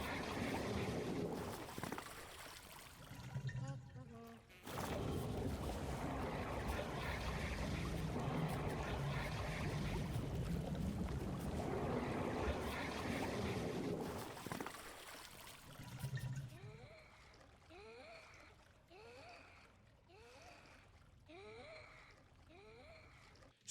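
In the video game Papetura, a boat glides through water with a steady rushing, washing flow for several seconds, then settles into softer trickling and lapping under faint repeated chirping sounds.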